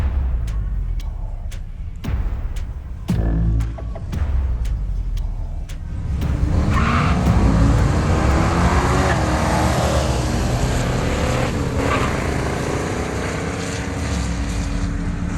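A Mustang Cobra launches at a drag strip with its tires spinning. A few sharp clicks and thumps come first, then the engine bursts into a loud, sustained roar that holds steady through the rest of the run.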